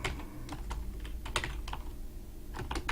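Someone types on a computer keyboard, a close, irregular run of soft key clicks with short pauses over a low background hum.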